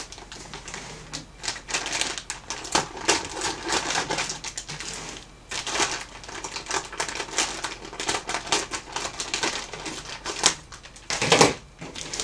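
A plastic reishi mushroom grow bag is cut straight across, giving a dense run of close, crisp snipping and crinkling clicks with occasional louder crunches.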